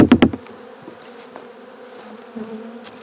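A captured honeybee swarm buzzing after being shaken into a box, a low steady hum heard close up after a few sharp knocks at the start.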